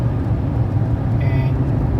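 Steady low road rumble and hum heard from inside a Hyundai Kona EV 64kW electric car cruising on a highway at about 110 km/h in light drizzle with the air conditioning on, continuous and even with no voices.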